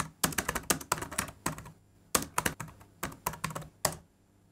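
Rapid bursts of typing on a computer keyboard, close and crisp, in three quick runs of keystrokes separated by short pauses, with no voices.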